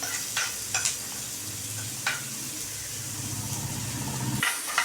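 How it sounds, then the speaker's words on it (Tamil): Onions with salt sautéing in a pan for ragi adai, giving a steady low sizzle with a few sharp spatula clicks and scrapes, fairly close and with no voices. "வெங்காயம் நல்லா வதங்கணும்"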